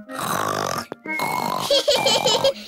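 A cartoonish voice as Peppa Pig's Papa Pig imitates loud snoring with snorts and grunting, piggy noises, repeated in rough bursts with a short gap partway through.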